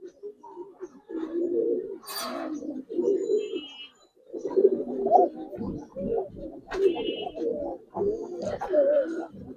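Giribaz pigeons, including a cock, cooing just after being released, repeated throaty bursts of coos in uneven phrases with a short pause, close and clear, with occasional higher chirps.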